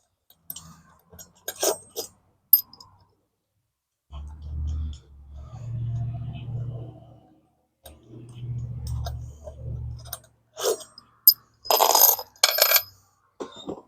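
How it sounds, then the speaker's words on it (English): Bolts are pulled from the rotor spacers of a Coleman B200RSV minibike: scattered close metallic clicks and clinks, a stretch of low rough mechanical rumbling in the middle, then a burst of louder metal clatter at the end. "I'm going to pull these bolts out of here"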